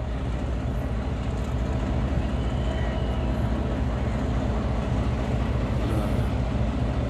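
Trains pulling out of Rabwah railway station, one bound for Sargodha and the other for Faisalabad, make a continuous loud rolling rumble of rail cars, with faint voices in the background.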